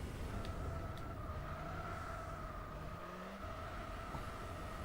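Car engine in Gran Turismo 4 held at high power for constant wheelspin, a steady sustained drone with a whining tone that stays loud and even throughout, with no speech.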